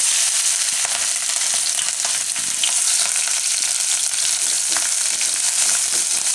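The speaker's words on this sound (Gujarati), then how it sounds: "તો તેલમાં તરાઈ જાય એવા મરચાં થઈ જાય થોડીક વારમાં જ" Green chillies fry in hot oil, a steady dense crackling sizzle that stays loud and unbroken throughout, with faint stirring scrapes mixed in.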